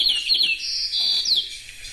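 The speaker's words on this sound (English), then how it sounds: "And white-crowned sparrows," A white-crowned sparrow sings a short, clear, high whistled song with sliding notes, close and alone against faint background noise.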